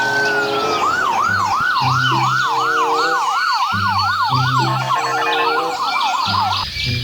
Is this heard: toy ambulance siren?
yes